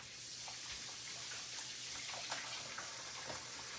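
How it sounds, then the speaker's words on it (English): Water running steadily from a kitchen tap while hands are rinsed, a soft continuous hiss with faint splashes, fairly quiet and without talk. "rinse my hands off"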